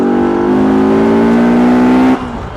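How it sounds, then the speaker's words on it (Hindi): A Bajaj Pulsar RS 200 single-cylinder motorcycle revs loudly nearby on a roadside, holding a strong rising drone before the throttle drops off sharply near the end. "मतलब यार एक RS 200 की ऐसी आवाज़ आती है ना"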